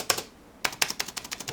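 Keyboard key strikes, a single clack followed after a pause by a quick irregular string of taps on a computer keyboard, close-up and moderately quiet, nobody speaking.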